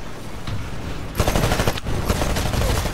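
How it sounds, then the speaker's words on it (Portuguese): Rapid automatic gunfire from the Xbox One shooter Titanfall rattles in dense, continuous bursts. The fire briefly drops out, then resumes loud and close, with no voices over it. "Tiro aqui é certeiro."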